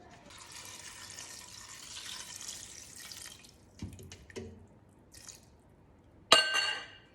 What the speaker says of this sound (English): And then we wanna cover them with water.